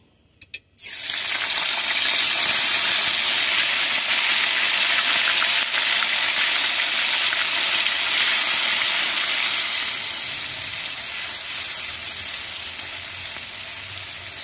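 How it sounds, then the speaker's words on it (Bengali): Onion paste, garlic paste and chopped green chili hit hot oil in a pan and fry with a loud, steady sizzle that starts abruptly and carries on alone, easing slightly toward the end. "মশলাগুলো ভালো করে কষিয়ে নেব।"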